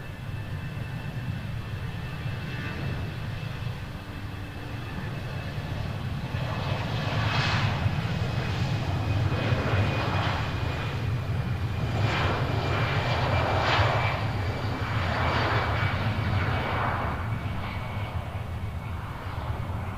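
A Philadelphia airliner passing at Nashville International Airport, a steady low jet-engine roar that swells in the middle and lingers, heard from a distance outdoors with no talk.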